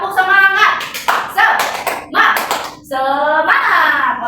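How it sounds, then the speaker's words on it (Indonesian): A group of schoolchildren claps in a class, with short rhythmic bursts of hand claps and brief pauses between patterns, mixed with young voices chanting along. "buat tepuk tangan semuanya"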